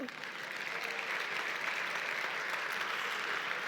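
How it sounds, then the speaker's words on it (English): Applause from attendees at an annual community meeting, an even, continuous wash of many hands clapping at moderate volume, heard from a slight distance and holding steady throughout. "Give yourselves a round of applause."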